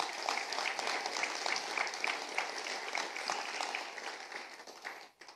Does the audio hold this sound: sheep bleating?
no